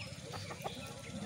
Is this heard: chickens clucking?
yes